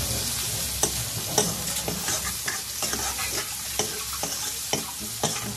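Salt and coriander-cumin powder being mixed in a sizzling cooking pan: steady frying hiss with a string of sharp spoon scrapes and taps against the metal, moderately close and with no voices.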